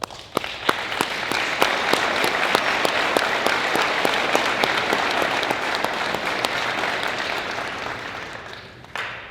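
An audience at a prison event at MCF-Stillwater breaks into sustained applause, a full roomy wash of many hands with distinct individual claps standing out, holding steady before thinning out at the very end.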